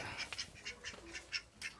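A farm duck, one that has stopped laying for a few days, gives a string of short, nasal quacks in quick succession. The calls are faint and set against a quiet outdoor background.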